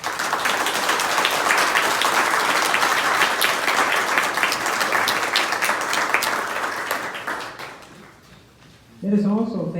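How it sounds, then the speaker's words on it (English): Sustained loud applause from an audience honoring women veterans and servicemembers at a Vallejo naval ceremony, dense clapping that fades near the end before a voice speaks over it. "let us give them a big round of applause"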